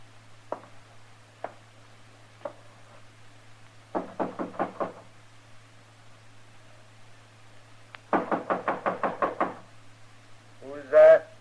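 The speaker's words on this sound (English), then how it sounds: "knock on the door" Knocks on a door in a Western radio drama, a few single raps and then two quick bursts of rapid knocking, close and distinct, with a voice speaking briefly at the end.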